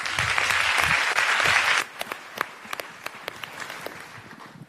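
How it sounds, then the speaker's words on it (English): A conference audience applauds a panel in a dense burst of clapping that cuts off abruptly after about two seconds, leaving a few scattered, sharp individual claps trailing off in a quieter room. "Give them one more round of applause."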